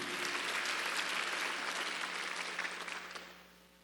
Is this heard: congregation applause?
yes